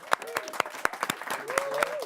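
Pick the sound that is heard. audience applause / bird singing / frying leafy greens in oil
audience applause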